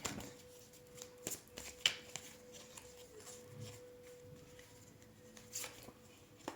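Tarot cards being shuffled and drawn at close range, with soft papery flicks and a few sharper snaps of cards against each other, quiet and intermittent in an otherwise still room.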